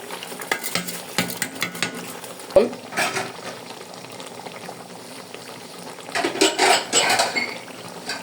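Washed rice tipped into a pot of cooked meat and oil for a picnic meal, then stirred: bubbling and frying under scraping spoon strokes and metallic clinks against the pot, fairly close, without talk.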